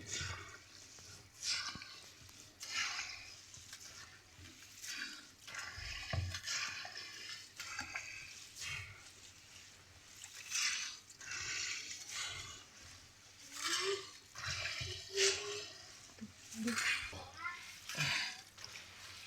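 Rice grains being washed by hand in a bowl of water, with repeated sloshing, swishing and splashing strokes in an uneven rhythm and a voice talking quietly in between.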